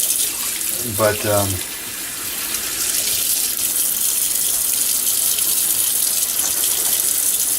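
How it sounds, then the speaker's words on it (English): Cold tap water runs in a steady, rushing stream to rinse blood from a heart. A voice speaks a brief word near the start before the flow continues alone. "Now typically you want to use cold water to get rid of all the blood."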